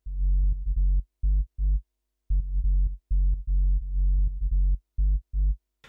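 Synth sub bass built from a sine wave with a bit of distortion, playing a rhythmic sequence of deep, loud pulsing notes that jump up and down an octave, with short gaps between phrases and no talking.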